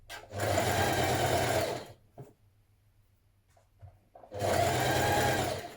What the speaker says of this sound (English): And we're going to stitch that in place.